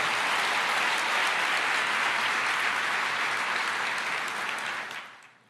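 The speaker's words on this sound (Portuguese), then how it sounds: "Pode aplaudir o Senhor." A church congregation applauds in sustained, dense clapping for about five seconds before it quickly tapers off and fades out.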